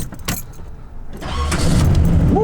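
A barn-find Chevelle SS cranks briefly, then its engine catches on the first try and climbs into a loud, rough, steady idle, close by.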